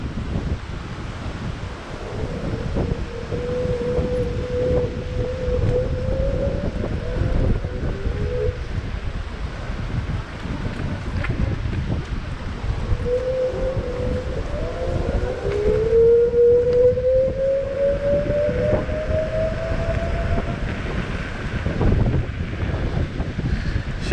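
Steady wind roars and buffets the microphone while riding a Kaabo Mantis 8 Pro Plus electric scooter on a winter day, a constant loud rush with faint rising motor whines in the background and no talking.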